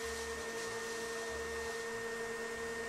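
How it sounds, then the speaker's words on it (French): Vacuum cleaner running steadily during house cleaning, a constant loud whine with a fixed high tone and low hum, alone without speech. "il y a Moulmoul qui est à la brosse et Tony qui est à l'aspirateur"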